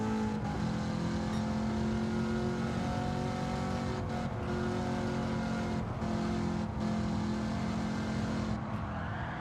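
Late model stock race cars roar steadily on an oval track, a dense close engine drone with shifting pitch as cars run in a tight pack.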